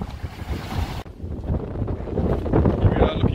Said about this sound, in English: Meltemi is definitely blowing today.